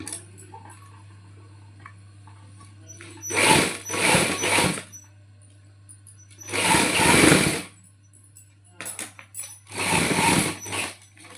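A sewing machine stitches along a round neckline in three separate runs of whirring, each lasting one to two seconds, with quiet pauses between them. No one speaks.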